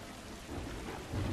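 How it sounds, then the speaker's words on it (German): Heavy rain pours steadily with a low rumble of thunder building beneath it, a storm in The Last of Us, with no voices. "Oh, da gewittert es aber mächtig."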